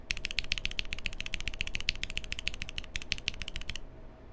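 Rapid typing on a mechanical keyboard with MX Black switches mounted on an aluminum plate: a dense, even run of crisp, close keystrokes for about four seconds before stopping, with no talk.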